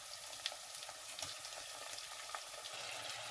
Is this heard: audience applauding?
no